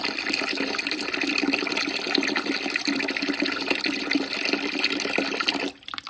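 Water poured steadily into a container of fermenting chicken feed, a continuous close rushing splash that stops abruptly near the end.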